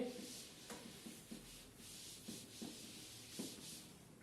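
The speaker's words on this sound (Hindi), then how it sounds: "थोड़ा रब कर देता हूं, एक बार रब कर दीजिए" Rubbing out chalk or marker writing on a board in a classroom during a physics lesson on motion, heard as soft repeated scrubbing strokes at close range with no talk.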